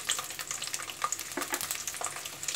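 Peeled garlic cloves sizzle and crackle in hot oil with mustard seeds and dried red chillies for a South Indian fish curry, a steady close frying hiss dotted with small pops and stirring scrapes.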